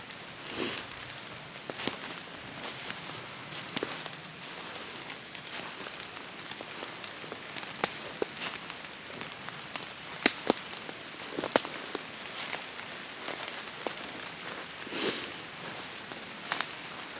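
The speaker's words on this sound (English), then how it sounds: "Tough to track in the pouring rain" Pouring rain falls steadily across a woodland ridge during a Pennsylvania archery buck hunt, a dense broadband patter with sharper drop hits scattered throughout, fairly quiet and close, with no voices.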